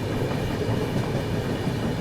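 Bundelkhand Express train rolling across a rail-cum-road bridge over the Ganga river, a steady loud rumble of wheels and wagons with a continuous rattling clatter throughout, no voices.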